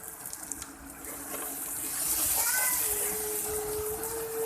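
Water poured into a pan of mutton curry in a Bengali home kitchen, heard as a steady gushing pour that builds and continues, with a faint tone underneath and no talking.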